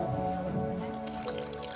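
Water trickles and drips in small splashes into mashed mango for a mango bhorta, a short, soft, wet dribbling sound close by.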